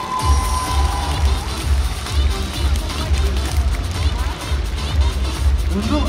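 Audience at a Star Wars saber-fight show by the Cyber Fighting Art studio cheers and claps loudly and continuously, a dense crowd roar with shouting voices throughout.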